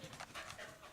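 A dog pants in quick, rhythmic breathy bursts, faint and close, with no talking over it.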